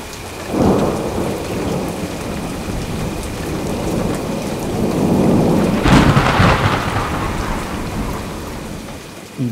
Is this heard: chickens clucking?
no